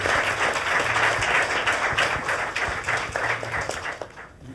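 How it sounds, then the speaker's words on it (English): An audience at a Punjabi men's mental health podcast applauds the panelists, a steady wash of clapping that fades toward the end. "Can we give our panelists a round of applause"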